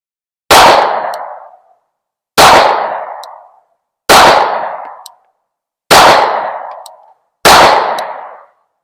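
Five loud, sharp pistol shots fired at a target about 10 yards away, evenly spaced roughly one and a half seconds apart, each with a brief ringing decay and silence between.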